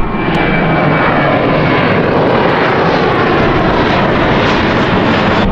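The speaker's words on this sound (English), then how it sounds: "Uh-oh, hold on, the planes." Airplane engines roar overhead at a beach, a loud steady drone that stays strong and close for the whole stretch with no talking.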